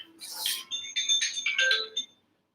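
A mobile phone ringtone plays in a short bright melodic burst of tones lasting about two seconds, clear and alone with no talking over it.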